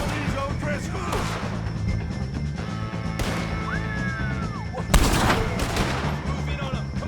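Gunfire in a Red Dead Redemption 2 shootout against O'Driscoll gang members, a dense battle bed of shots with a sharp crack near 3 seconds and a louder burst near 5 seconds, layered with music and voices.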